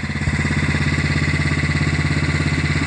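A John Deere LA105 lawn tractor with a gravity-fed gas tank conversion runs steadily nearby, its engine chugging in an even, rapid pulsing rhythm without voices.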